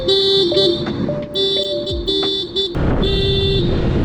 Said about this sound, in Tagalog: Horn check!